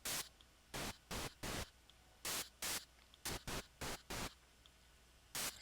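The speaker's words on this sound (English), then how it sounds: "we have the possibility to have white noise and as well pink noise" Short bursts of harsh synthesized white noise from FL Studio switch on and off in an irregular pattern, each lasting a fraction of a second, over a quiet background.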